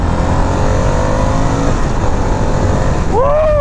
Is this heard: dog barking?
no